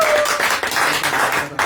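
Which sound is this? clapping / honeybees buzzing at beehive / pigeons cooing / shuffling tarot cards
clapping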